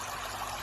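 Water trickles steadily from a homemade backyard pond sprinkler waterfall, a soft continuous splashing flow that stays close and even throughout, with no voices over it.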